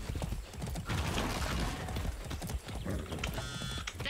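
A horse trots in the video game Far Cry 6, giving a steady, close clip-clop of hooves with mechanical clatter under it and no voices.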